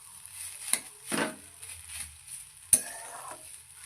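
Banana stem (thor) stir-frying in a pan on medium heat: soft sizzling under scattered scrapes and a couple of sharp clinks of a utensil against the pan, close and fairly quiet.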